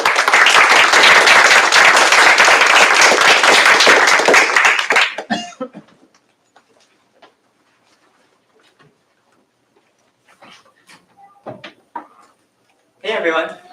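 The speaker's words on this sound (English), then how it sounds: "give you a round of applause" An audience at a lightning-talk session bursts into loud, dense applause for about five seconds, then the clapping dies away into near silence broken by scattered small knocks and shuffles.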